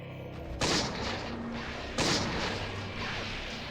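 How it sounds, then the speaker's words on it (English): Two loud flintlock pistol shots fire about a second and a half apart in the video game Eternal Darkness, each one a sharp boom followed by a lingering rumbling tail. "this flintlock pistol is so shitty"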